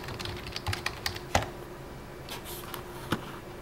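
Close, fairly quiet typing on a computer keyboard, with irregular clusters of key clicks and a few louder taps over a faint steady hum, no talking.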